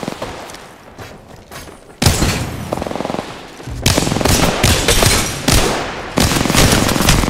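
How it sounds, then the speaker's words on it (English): Rapid automatic gunfire in the Apex Legends battle royale game crackles in loud bursts, with a quieter volley first, then two heavy, sustained barrages separated by brief pauses. "I'm gonna shoot them in the back."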